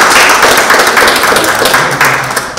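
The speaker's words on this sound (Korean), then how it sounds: "열심히 내라고 박수 한번 쳐주세요" Audience applause at a campaign event in Chilseong Market, a dense, steady wash of clapping from a sizable crowd that holds loud for nearly three seconds and tapers slightly at the end.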